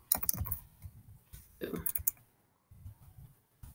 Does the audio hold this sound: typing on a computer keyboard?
yes